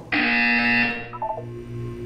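A harsh electronic buzzer from the video game Portal 2 blares for about a second, loud and steady, then gives way to a few brief, quieter electronic tones over a low background hum.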